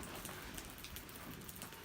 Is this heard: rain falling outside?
yes